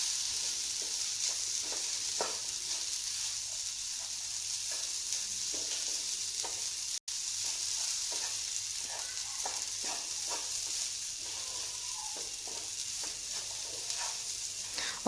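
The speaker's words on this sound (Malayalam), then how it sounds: "നന്നായിട്ട് ഇളക്കി യോജിപ്പിക്കുക എല്ലാം കൂടെ" Grated, already pressure-cooked plantain being stirred and mixed as it fries in a pan, a steady close sizzle broken by frequent light scrapes and taps of the spoon, with no voices.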